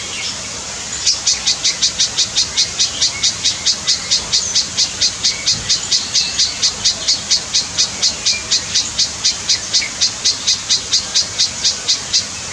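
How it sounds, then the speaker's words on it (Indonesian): A male spiderhunter bird's recorded call repeats as a long, steady series of sharp, high chirps at an even rhythm, loud and close against a soft background hiss. "pernah merekam suara burung"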